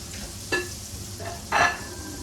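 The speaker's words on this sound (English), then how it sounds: "While those are frying" Food sizzles steadily in a hot pan, with a couple of louder scraping stirs breaking through the constant frying hiss.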